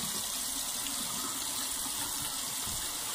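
Water runs steadily from a bathroom sink tap while a face is wetted before a cleansing clay mask, a continuous close hiss and splash with no talk.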